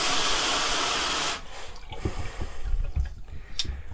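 Water gushes from a hose fed by an RV pump at an off-grid tiny house. It pours loudly for the first second or so, then drops to softer splashing and dripping.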